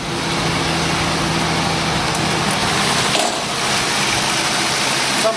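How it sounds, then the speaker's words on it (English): A 1947 Dodge W Series truck engine idling steadily, a smooth continuous low running drone with faint mechanical whir, even and close throughout. "I want to show them the engine while it's running"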